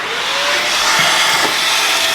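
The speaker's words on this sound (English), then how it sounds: "rust in the house vacuum" A household vacuum cleaner runs steadily, loud and close, sucking up rust from the engine bay of a Datsun 240Z, with a few brief rattles of debris passing through the hose.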